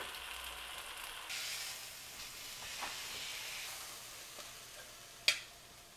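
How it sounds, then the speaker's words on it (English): A steak sizzles faintly in a hot pan with a soft, steady hiss, broken by a few light ticks and one sharp click near the end. "look at that steak just laying there getting fried"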